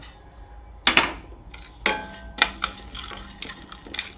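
Whole black peppercorns and cumin seeds dry-roasting in a pan, with a few sharp metal scrapes and clanks of a spoon against the pan and scattered light rattling between them, close and fairly quiet.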